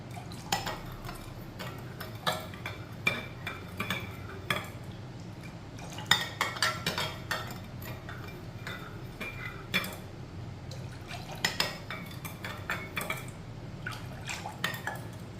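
A spoon stirs Rooh Afza syrup into a drink, producing quiet, irregular clinks and taps of metal against a glass or vessel with faint liquid swirling, all close up and without any voices.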